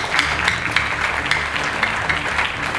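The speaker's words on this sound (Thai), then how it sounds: "ขอเชิญปรบมือให้พวกเขาเหล่านี้ด้วยครับ" An audience at the ETA Open Day event applauds volunteers with steady, dense clapping that holds at an even level from start to finish.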